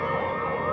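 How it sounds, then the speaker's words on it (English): A steady, loud siren tone holds for under a second, with no voices and no other sounds standing out. "She could hear sirens in the distance growing louder."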